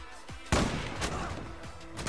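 Two sharp gunshots from the online shooter Zula crack out alone, one strong blast followed by a second about half a second later, with quieter shot-like pops trailing off near the end.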